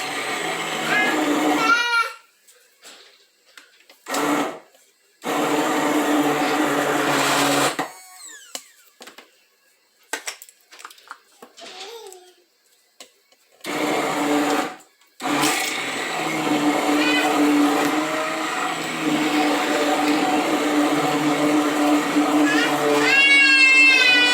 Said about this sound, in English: Grind this all up really good.